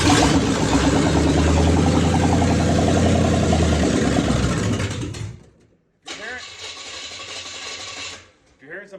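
An abandoned military truck engine runs roughly with an open exhaust manifold, a loud rattling roar for about five seconds, then a pause and a second uneven burst, with voices talking over it.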